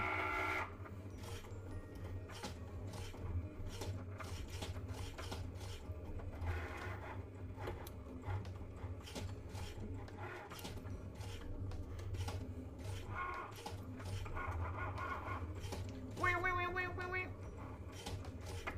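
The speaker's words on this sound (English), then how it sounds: "Has anyone remixed a Cricut cutting sounds?" A Cricut cutting machine runs steadily through the whole stretch, giving a continuous mechanical whir with repeated short scraping and rasping strokes as the blade carriage moves, close and fairly quiet, with no talking.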